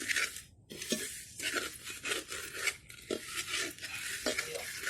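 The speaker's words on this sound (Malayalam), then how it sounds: "ഈ സമയത്ത് നന്നായിട്ട് ഇളക്കി കൊടുത്തുകൊണ്ട് തന്നെ ഇരിക്കണം." Rice flour for avalos podi being stirred while it roasts in a pan, with repeated scraping strokes of a spoon against the metal pan, close and fairly loud in an uneven rhythm, no voices.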